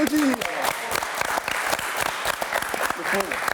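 Audience applause at a live French talk event, dense steady clapping filling the whole stretch at close range, with a voice briefly speaking over it near the start and end.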